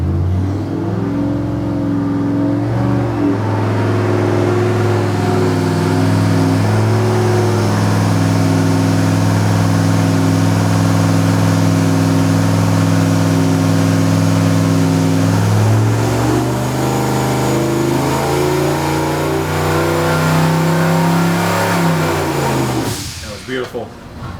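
A car engine is revving and held under load on a dynamometer during a test run, with a steady, loud droning tone that climbs in pitch and then cuts off near the end. Voices talk over it.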